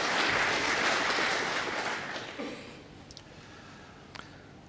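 Applause fills a snooker arena as players walk in for the Masters final, a dense clapping crowd that holds strong before gradually fading away into quieter room sound.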